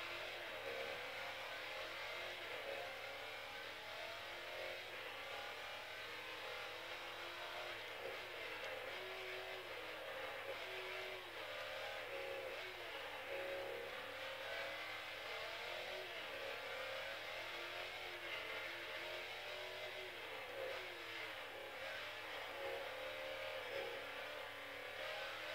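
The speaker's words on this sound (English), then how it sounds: "A lot of wheels spin off the line." A Pontiac in the Forza Motorsport 4 racing game spins its wheels off the start line, producing a continuous engine roar and tire noise that stays steady and fairly loud throughout, with no talk.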